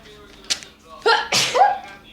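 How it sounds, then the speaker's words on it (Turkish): A child sneezes, a sharp burst standing out in a quiet room during a drawing-guessing game, followed by a second louder sneeze-like outburst with some vocal sound. "Hapşırıyor bu da sinirli."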